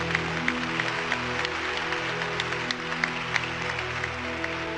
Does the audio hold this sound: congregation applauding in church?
yes